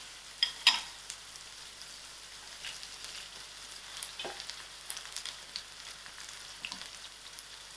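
Whole cumin seeds (jeera) sizzle in hot oil in a pan, a soft steady frying crackle with a few sharper pops and stirring clicks, close but quiet.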